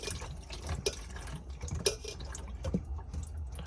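Water draining from a camper van's plumbing system, uneven dripping and splashing with irregular louder drops, close and fairly quiet.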